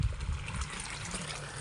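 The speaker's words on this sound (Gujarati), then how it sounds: "મસ્ત પાણી બી અવાજ છે ચાલુ પાણીનો" Running water from a village pond trickles and flows steadily, a soft continuous wash with low rumbling undertones, fairly quiet and without talk.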